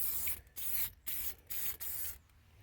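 Chemical Guys Factory Finish sprayed from a trigger sprayer in five close, loud hissing bursts, each around a third of a second, separated by brief pauses, over a low background hum.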